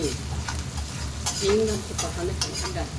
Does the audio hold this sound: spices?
yes